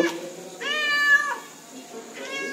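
A stray outdoor cat meows twice, close and clear, with one drawn-out call and then a shorter one over light background noise.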